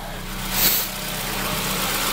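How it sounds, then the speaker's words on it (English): A Mitsubishi Galant VR4 engine with clacky valves idles steadily nearby, not yet at operating temperature, giving a low, even mechanical hum with a light rhythmic ticking and no talk over it. "this engine is... the valves are too clackety. Just listen to it."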